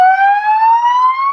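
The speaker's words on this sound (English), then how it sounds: "I blow sirens every touchdown, and the city just loves it" A touchdown siren mounted on a Chiefs fan's house blares a loud, steady wail that climbs slowly in pitch, close and alone with no talk.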